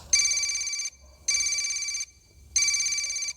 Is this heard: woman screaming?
no